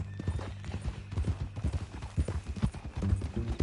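Horse hooves clip-clop at a steady walking rhythm in Red Dead Redemption 2, close and continuous with a faint background hum and no clear talk.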